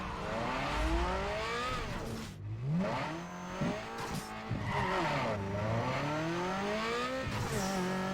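A car engine in the Need for Speed Underground 2 racing game revs hard through gears on a quarter-mile test run, over-revving as it climbs and drops, with tires squealing. The engine is loud and close, and no one speaks.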